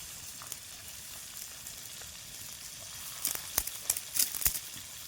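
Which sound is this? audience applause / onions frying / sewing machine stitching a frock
onions frying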